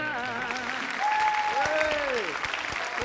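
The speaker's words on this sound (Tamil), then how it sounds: "பலத்த கைத்தட்டல இருந்து அழகான குழந்தைங்களுக்காக கொடுத்துடலாம்" An audience at a Tamil stage event applauds, with crisp claps under a voice that speaks over them.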